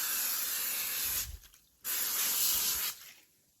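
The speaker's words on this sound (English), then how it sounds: "cooking spray." An aerosol can of cooking spray mists onto foil on a cookie sheet in two long hissing bursts, each about a second or more, separated by a short pause with faint handling noise.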